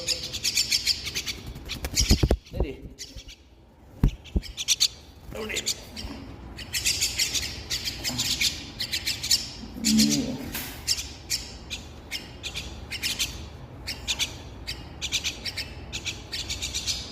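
A pet myna bird calls during feeding time, giving repeated bright chirps and squawks close by, with a person's voice heard now and then alongside it.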